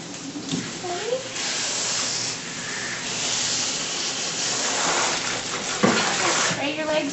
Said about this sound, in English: Spray your legs a little.